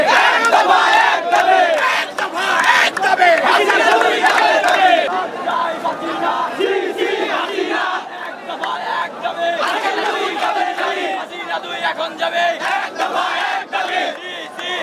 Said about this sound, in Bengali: শিক্ষার্থীদের স্লোগানে উত্তাল হয়ে ওঠে শিববাড়ি মোড়